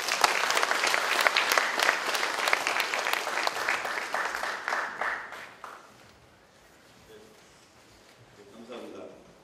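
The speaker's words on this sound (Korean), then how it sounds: "박수로 환영해 주십시오." Warm applause from an audience at the opening ceremony of a regional mental health center in Jeollabuk-do, welcoming a speaker; dense clapping for about five seconds that tapers and dies away, followed by a brief spoken remark near the end.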